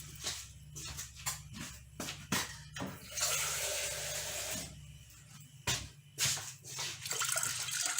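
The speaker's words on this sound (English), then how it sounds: "So we're now going to add some water to soak it." Water runs and splashes in bursts into a bowl of black-eyed beans, with short pauses between, a steady pour in the middle, close and fairly quiet.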